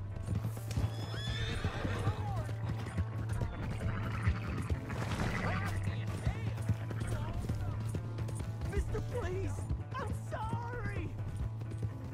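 A horse in Red Dead Redemption 2 gallops with rapid clip-clop hoofbeats and whinnies, steady under a low engine-like drone, with scattered game voices mixed in.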